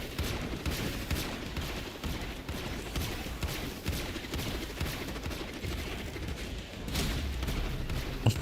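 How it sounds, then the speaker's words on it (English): In the sci-fi shooter Warframe, thrown glaives fly everywhere, making dense, rapid bursts of sharp impacts and whooshes that overlap into a chaotic, loud barrage with continuous low rumble underneath. "You're just shooting the glaives everywhere."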